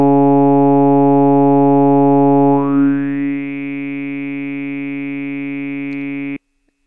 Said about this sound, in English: what I did in the vowel editor to create that sound was go from a to u and then to e